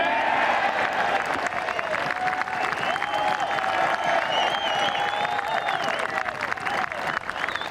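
A golf gallery at Royal Portrush during the Open Championship breaks into sustained applause and cheering after Shane Lowry's birdie putt, a dense roar of clapping from a large crowd that holds steady throughout.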